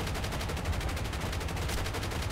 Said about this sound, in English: Here we have the smaller caliber guns shooting at him